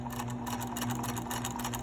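A sewing machine stitches a fabric seam with a steady, fast mechanical whir and rapid needle clatter, close and continuous for the whole short stretch.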